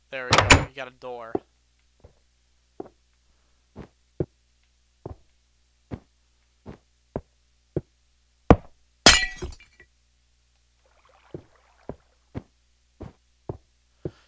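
Blocks placed one after another in Minecraft while building a football/baseball stadium, including a door: a run of short, sharp, evenly spaced clicks and knocks, with a couple of louder crunchy bursts and brief talk at the start.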